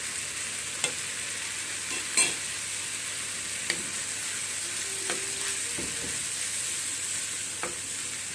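Squid frying in a pan with yellow turmeric powder, a steady soft sizzle with a few light scraping stirs throughout, no voices.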